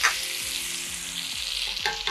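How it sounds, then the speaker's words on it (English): Onions sizzle and crackle steadily in hot oil, a close, continuous frying hiss with occasional scraping from stirring. "In the same oil that we used to fry the chicken, go ahead and add in your onions."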